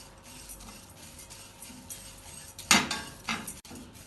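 Light scraping and clinking of a utensil stirring oats in a frying pan, with a couple of sharper scrapes near the end, fairly quiet with no talking.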